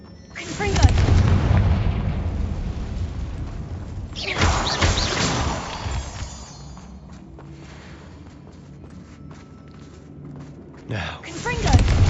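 Confringo fire spell blasts in the game Hogwarts Legacy, heavy booming impacts at the start, again around the middle and briefly at the end, with quieter rumble between.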